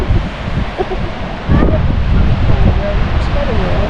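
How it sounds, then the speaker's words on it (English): Wind blows hard across the microphone at a beach on the Oregon coast near Florence, a loud, steady, buffeting roar that thickens halfway through, with faint voices partly buried beneath it. "It's a little windy"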